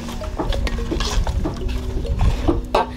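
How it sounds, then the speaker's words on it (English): Cooked meat being stirred into a pot of Ghanaian beans leaves soup, with a steady scraping and clinking of spoon against the pot over a continuous low hum, repeated strokes close by. "Now we are adding in our meat, the one that we pre-cooked before, okay? Then we will stir it up"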